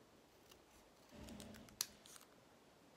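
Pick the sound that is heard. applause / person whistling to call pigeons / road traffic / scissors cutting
scissors cutting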